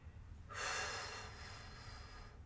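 A single soft, drawn-out breath through the nose during a neck stretch, close and quiet, lasting about two seconds with no talking.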